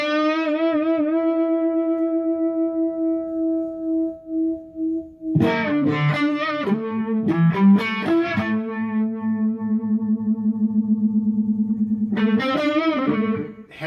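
Sustained notes and chords from an electric guitar run through a Moen Jimi Nova Univibe-style pedal, swirling with a pulsing, throbbing vibe modulation. Slow held tones open the passage, then busier strummed phrases follow, with no talking.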